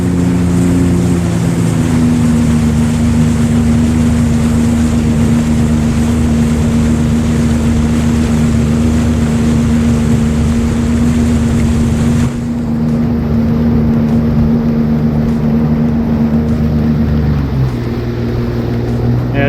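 A 2022 Sea-Doo GTX Limited 300 personal watercraft engine drones loudly and steadily while cruising beside a bridge pylon, its pitch dropping slightly near the end as the throttle eases.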